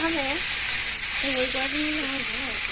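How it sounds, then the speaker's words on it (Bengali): Fish cooks in a pan with a loud, continuous frying hiss, while faint tonal vocal sounds drift over it in the background. "গাইস, তোমরা দেখতেই পাচ্ছ যে রান্না হচ্ছে, মাছটিকে রান্না করা হচ্ছে।"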